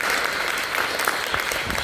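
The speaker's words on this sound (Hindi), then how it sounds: "वेरी गुड, तालियां बजनी चाहिए इनके लिए" Audience at a business event in a chamber of commerce hall bursts into brief, dense applause, steady clapping throughout with no voices on top.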